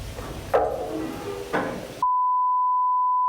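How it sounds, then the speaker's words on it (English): A door aboard the Queen Mary opens with two sharp scraping, sliding bursts about a second apart, followed by a sudden steady electronic tone that fills the rest. "That was a door opening."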